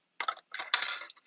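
A die-cutting machine for papercraft cranking as paper passes through, a short run of ratcheting mechanical clicks and grinding in two or three bursts, close and fairly quiet, with no voices.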